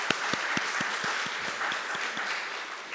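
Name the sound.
church congregation applause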